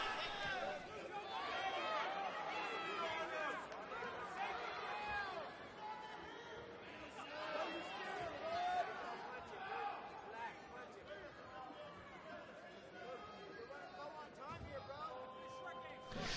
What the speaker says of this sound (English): you can hear the crowd telling Gamaza that you're running low on time